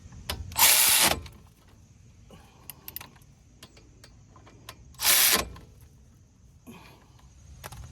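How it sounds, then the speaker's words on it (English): A ratchet tightens the outer tie rod nut on a Hyundai Sonata, two loud, close bursts of about a second each, separated by quieter clinks and handling noise. "Don't forget to tighten this nut."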